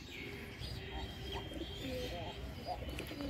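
Domestic desi pigeons coo in soft, repeated low calls through a steady noisy background, with occasional chirps and a voice nearby.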